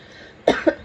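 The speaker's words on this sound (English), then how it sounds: "Suddenly the urge to cough comes upon me." A few short, close coughs in quick succession, loud and dry, with no talking around them.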